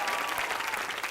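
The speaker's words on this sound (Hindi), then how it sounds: "तालियां for that." A studio audience at an Indian entertainment show breaks into brief, dense applause, loud and close, lasting about a second.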